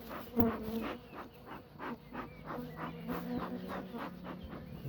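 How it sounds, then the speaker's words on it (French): Honeybees buzz around an open beehive as a beekeeper works the frames, a soft, continuous, wavering drone with individual bees passing close by now and then. "Hop, les abeilles vont repartir là-bas."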